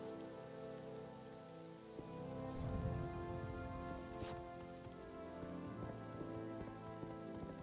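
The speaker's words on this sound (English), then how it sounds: "Rain's letting up." Steady rain in the Morrowind video game (OpenMW, modded), a dense continuous hiss of rainfall with a low rumble swelling midway, under a wash of ambient background music and no speech.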